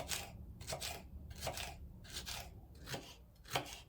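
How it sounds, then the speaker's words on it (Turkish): A knife chops red peppers rapidly on a board, repeated crisp cuts in quick bursts, close and fairly quiet. "Bir veya iki tane kırmızı biberi yine küçük küçük doğrayalım."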